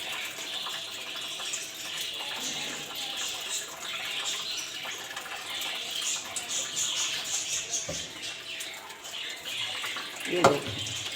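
Starchy cut food pieces are rinsed in water for home-made snacks, with a steady wash of running, sloshing water and a few soft knocks and clinks from the bowl.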